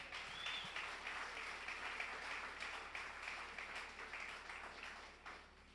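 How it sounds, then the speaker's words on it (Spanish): Congregation applauding at a church service, a steady wash of clapping that stays fairly even throughout, heard at a distance and moderately faint. "Aplaudamos al Señor."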